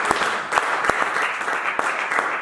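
Church congregation applauding, a steady dense patter of many hands clapping together throughout, with a few louder individual claps standing out.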